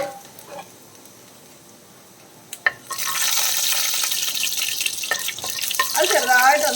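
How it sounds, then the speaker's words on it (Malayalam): Finely chopped garlic dropped into hot oil, bursting into a steady, fairly loud sizzle after a couple of soft knocks, and continuing as the frying settles in a home kitchen while a pan is stirred. "പൊടിയായിട്ട് അരിഞ്ഞ വെളുത്തുള്ളി നമുക്ക് ഇട്ട് കൊടുക്കാം"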